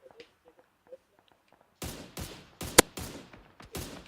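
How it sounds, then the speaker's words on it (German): Gunfire rings out in a video game: a burst of five or six sharp, loud shots in quick irregular succession, with quieter clicks and small game sounds before it and no talking. "Oh, auf mich wird geschossen."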